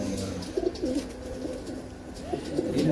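Domestic pigeons coo softly in a loft, several low murmuring coos spread across a steady background hum.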